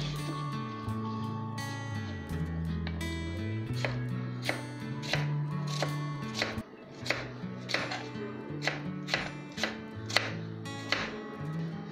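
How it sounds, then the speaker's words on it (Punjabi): A kitchen knife slices onion into long strips on a cutting board for noodles, giving about a dozen crisp, evenly spaced chops close up, mostly in the second half. "ਇਸ ਤਰ੍ਹਾਂ ਤੁਸੀਂ ਲੰਬਾ ਲੰਬਾ ਜਿਹਾ ਪਿਆਜ਼ ਕੱਟ ਲੈਣਾ।"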